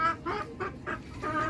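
A chicken on a rooftop deck of a house clucks close by in five evenly spaced bursts, with low background rumble and no talking.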